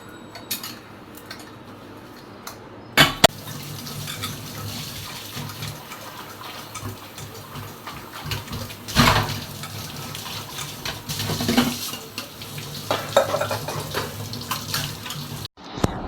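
Dishes are washed by hand under a running tap, a steady rush of water broken by clattering knocks and clinks of plates and utensils, with a few sharp bangs.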